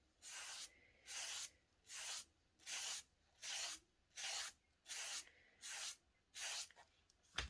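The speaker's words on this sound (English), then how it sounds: "I'm going to lightly rub over the top of the page" Something lightly rubs across a journal page in eight even, rhythmic strokes, each a soft papery swish, close and quiet with brief pauses between passes.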